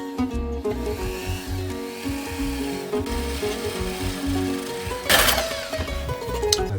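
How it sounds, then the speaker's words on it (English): Hand drill boring holes through wood for a contemporary sun lounger, a steady grinding, rubbing rhythm close by that runs throughout, with a brief louder burst near the end. "So let's drill some."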